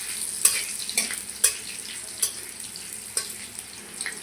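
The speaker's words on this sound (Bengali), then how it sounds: "কাঁচা লঙ্কা ভালো করে ভেজে নেব।" Green chillies and bay leaves fry in oil over black cumin seeds, a steady close sizzle punctuated by sharp scraping clinks of a spatula stirring against the pan, with no voices.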